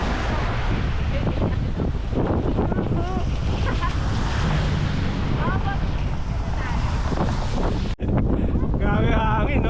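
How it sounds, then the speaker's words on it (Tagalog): Strong headwind buffets the microphone on a motorcycle ride along a wet, drizzly, cold mountain road toward the Banaue Rice Terraces via Bessang Pass, a loud continuous roar with people talking faintly underneath. "Grabe hangin, no? Headwind."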